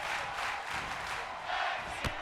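Crowd at a ladies' tag team pro wrestling match cheering and shouting, a steady, somewhat distant roar of voices with a sharp spike near the end.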